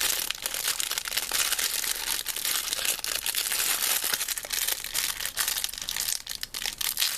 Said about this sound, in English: I'm struggling with this plastic bag